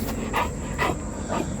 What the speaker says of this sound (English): So these are coon hunting dogs, huh?